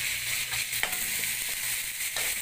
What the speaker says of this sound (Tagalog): Halo-haloin lang po natin hanggang sa maluto ang tomato.